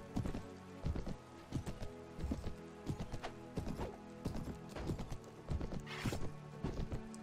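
Hooves of a ridden horse clip-clop in a steady, rhythmic gait in the Mount & Blade: Warband Brytenwalda mod, loud and close, with a neigh near the end and no talk.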